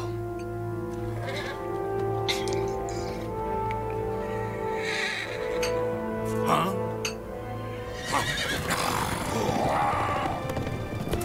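Horses whinny and bleat in Lego The Lord of the Rings amid steady game music and ambient noise, with a louder burst of animal calls and movement toward the end.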